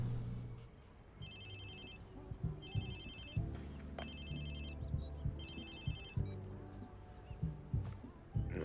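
A mobile phone rings in Watch Dogs 2 with three bursts of an electronic ringtone, fairly clear over a low ambient backdrop of thuds and soft game noise.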